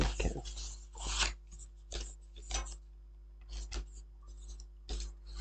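Paper being creased along fold lines for a scrapbooking folio, a series of short rasping strokes in irregular bursts, close and fairly faint with quiet gaps between.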